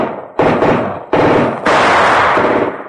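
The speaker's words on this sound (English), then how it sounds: "Hassan, the machine gun you see, Mr. Knight." Tommy gun fire as a radio drama sound effect: three loud, close bursts of rapid automatic shots, the last one longest, each rattling burst trailing off with echoing decay.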